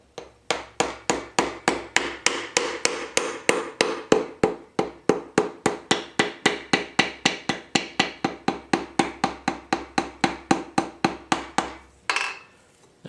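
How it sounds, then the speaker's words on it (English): Rubber end of a tool handle tapping an engine part down on a Nissan SR20DET engine stand during teardown: about forty sharp, evenly spaced knocks in a steady rhythm, close and loud, with no voices. "I'm going to use the rubber end of the handle for the engine stand."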